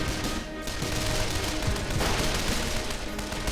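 Gunfire in the WWII strategy game Men of War: Condemned Heroes, a dense, continuous burst of shots and loud battle noise with no clear gaps, dominating throughout.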